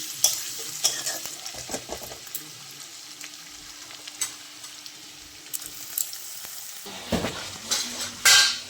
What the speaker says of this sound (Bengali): রসুনটা একটু ভাজা হোক, পেঁয়াজটা একটু পরে দিব।